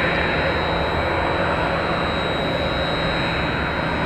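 A Southwest airliner on landing approach at Tampa airport gives off a steady, loud jet roar with a constant whine, unbroken and with no talk over it for the whole stretch.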